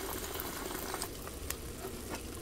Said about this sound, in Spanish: le voy a agregar ya el huevo con los guajes. Se lo vamos dejando que se sofría bien